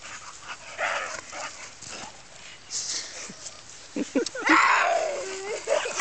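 A dog whimpers and whines in high, wavering yelps, with people talking and laughing quietly around it.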